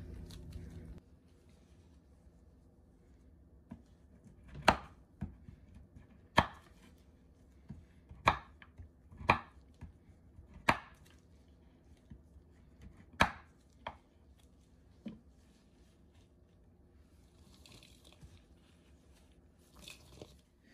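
Cargill C6 coconut soy wax being cut into broken pieces of varied shapes and sizes, heard as a string of sharp, separate crunching chops at an uneven pace over a quiet background, with a couple of fainter cuts near the end.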